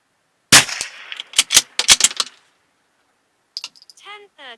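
Several sharp suppressed reports from a Bergara B14 rifle firing Aguila 38-grain subsonic hollow point .22LR rounds, a quick irregular burst of close cracks followed by quiet and then faint metallic clinks and ticks.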